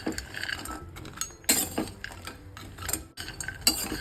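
Black dried dates (kharik) dry-roasting in a pan without ghee, with repeated close metal clinks and scrapes of a utensil stirring against the pan, irregular and fairly quiet.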